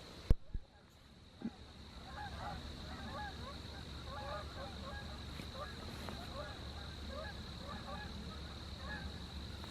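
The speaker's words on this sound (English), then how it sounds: "Geese are really flying this morning." A large flock of geese honks steadily as it flies over in an early-morning state park campsite, the calls faint and distant, forming a continuous chatter across most of the span after a few sharp close knocks.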